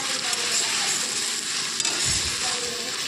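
Ginger and garlic paste sizzling and frying in a pan for a fish curry while being stirred, a steady close crackle with scraping motions and a low bump near the end, no talking.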